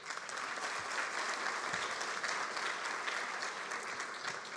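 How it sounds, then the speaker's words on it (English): Sustained applause from an audience at a Teacher of the Year awards ceremony, a dense, even wash of many hands clapping throughout at moderate distance, with no talk over it. "Give yourselves a round of applause for that."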